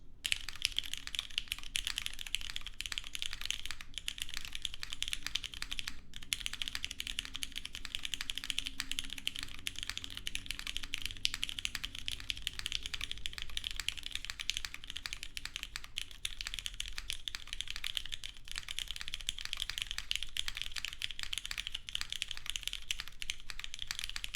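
Continuous close typing on a custom keyboard with an aluminum plate, hot-swap PCB and GMK Night Runner keycaps, a fast, dense patter of clacky keystrokes running steadily throughout with only brief pauses.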